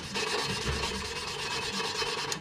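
An engine valve being lapped onto its seat with compound during a Cummins 4BT diesel build, a steady close gritty rubbing rasp that runs continuously with slight back-and-forth swells.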